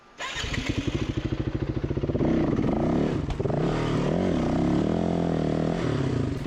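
Off-road motorcycle engine revving and accelerating on a rocky trail at Silver Lake, loud and close, with rapid firing pulses building into a sustained throttle-on roar.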